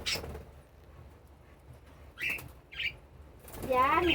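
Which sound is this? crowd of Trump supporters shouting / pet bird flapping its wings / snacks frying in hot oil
pet bird flapping its wings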